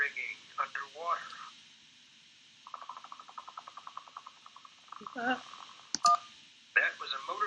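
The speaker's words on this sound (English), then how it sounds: "That was a motorboat's propeller failing." A failing motorboat propeller, a game sound effect from Kentucky Route Zero, comes as a fast, even train of sputtering pulses for a couple of seconds. It fades into a quieter rumble, with a person talking before and after.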